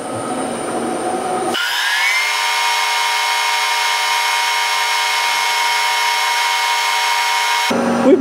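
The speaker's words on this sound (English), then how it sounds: "we're going to drill a couple of small holes through the end of this piece of the reverser" A small drill bit bores through a metal reverser part for a 7 1/4-inch model steam locomotive, giving a steady, loud, high whine that runs for several seconds alone and then cuts off abruptly.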